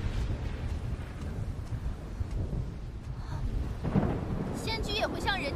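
Thunder rumbles through a storm in a fantasy drama, a low continuous roll that swells near the end, with a bright crackle at about four seconds and a brief high sound near the close.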